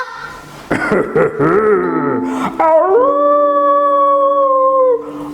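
A wolf howls as a storytelling sound effect, starting with yips and wavering whimpers that rise into one long, loud, sustained howl with clear harmonic tones before fading.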